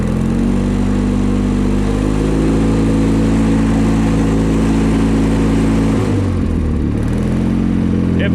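A Kohler-powered John Deere 318 lawn tractor engine runs steadily and loudly throughout, a close, continuous mid-pitched drone that dips briefly in speed near the end before recovering.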